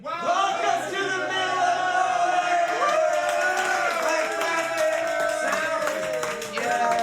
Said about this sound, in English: Now we can start clapping.